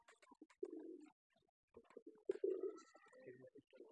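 Pigeons coo softly in a wooden coop, a few low throaty bursts with short pauses, close and quiet.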